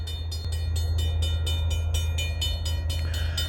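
Norfolk Southern train passing close by on the track, a loud continuous rumble with rhythmic clanking of railcars and a steady high metallic ring.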